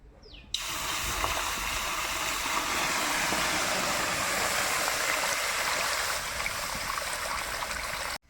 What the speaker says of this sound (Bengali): এখন আমি জল দিব